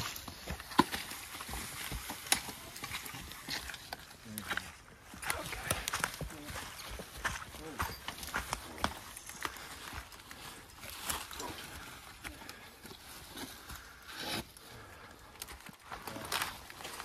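A working horse's hooves clip-clop on the ground during logging with tongs behind a single horse, irregular thuds and steps, near and moderately loud, while someone talks over them.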